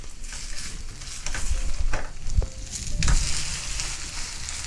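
A cabbage pancake sizzles loudly in oil in a frying pan, with scraping and a few sharp clatters as it is turned over, and no voices.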